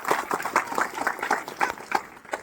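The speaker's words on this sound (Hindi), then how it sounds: "तो एक बार सर के लिए एक बार जोरदार तालियां हो जाए" An audience at a public speech event claps for a speaker. The clapping comes in even, rhythmic bursts, moderately loud and slightly distant, for a few seconds.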